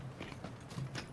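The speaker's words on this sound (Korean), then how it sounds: "발소리." Footsteps in the video game PUBG (Battlegrounds) come as a short run of soft, rhythmic thuds, quiet and close, with no talk over them.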